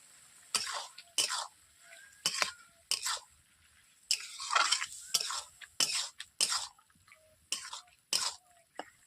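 Mixed vegetables with cumin paste are stirred in a pan, giving a series of sharp, rhythmic spatula scrapes and clinks roughly every half second, close and fairly quiet, with faint sizzling between strokes.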